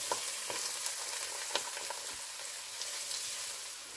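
Chopped garlic and onion frying in olive oil give a soft, even sizzle close by, with faint stirring taps and light spatters breaking through the quiet crackle.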